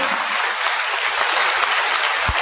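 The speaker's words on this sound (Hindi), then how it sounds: "आसमान के परमेश्वर के लिए और जोर से तालियां बजा सकते हैं?" A church congregation applauding their God at a worship service, loud dense clapping filling the space throughout, with a brief low thump near the end.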